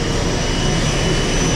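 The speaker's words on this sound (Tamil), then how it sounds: "குட்டியூண்டு ஃப்ளைட்டுங்க. இவ்வளோ தான் மொத்த ஃப்ளைட்டோட சைஸு." A small passenger airplane's engine gives a loud, close, unbroken roar with a constant whine on top, steady for the whole stretch.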